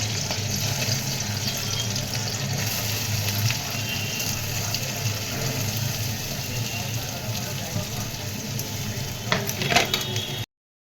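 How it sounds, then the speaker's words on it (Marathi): Potato pieces go into a pan of hot oil for sabudana khichdi and sizzle steadily while being stirred, with a few scraping clinks near the end. "त्यानंतर बटाटा टाकत आहे।"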